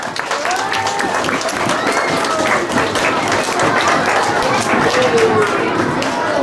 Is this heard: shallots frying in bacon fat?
no